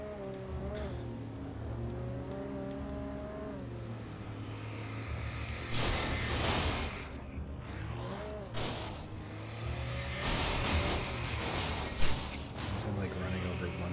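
A car engine drones and revs in the Alan Wake Remastered video game, punctuated by loud bursts and impacts, with a player's voice talking over it.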